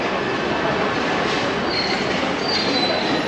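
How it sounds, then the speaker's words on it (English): A train at a station in Inca, Mallorca, rumbles steadily close by, with high wheel squeals rising over the continuous rolling noise. "we're going to catch the train"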